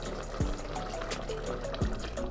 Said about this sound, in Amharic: እንደዚህ ውሃ ትንሽ ጨመር አድርገን ስጋውን እንዲበስል እናደርጋለን